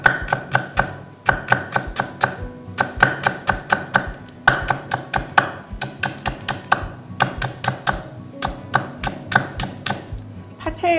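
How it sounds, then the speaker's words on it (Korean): A knife slices stacked green onion into thin strips on a cutting board in quick, even bursts of sharp taps, with brief pauses between runs. The chopping is close and clear. "포개 놓고서 이제 가늘게 채 써세요."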